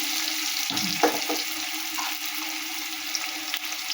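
Onion and turmeric sizzle in a pan as the base for a koi fish curry, a steady close frying hiss with a few soft stirring knocks.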